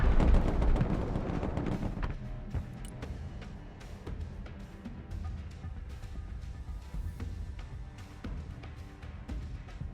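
Mortar and artillery fire in the Broken Arrow war game, a heavy opening blast followed by scattered sharp shots and distant booms in an uneven rhythm over continuous rumbling battle noise.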